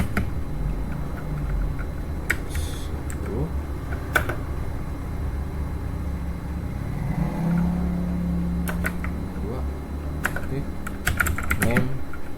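Typing on a computer keyboard while entering VLAN configuration commands, a steady run of light key clicks under a low hum, with a voice speaking intermittently.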